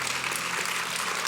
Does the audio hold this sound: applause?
yes